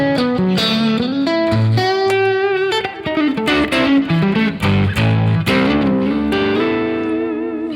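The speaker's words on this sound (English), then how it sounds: "Which is kind of just a pushed tube amp" Electric guitar played through a pushed tube amp sitting in its sweet spot, giving an edgy breakup; a continuous riff with sustained chords and single notes, loud and up close with a touch of effects, no talking.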